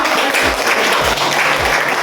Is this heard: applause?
yes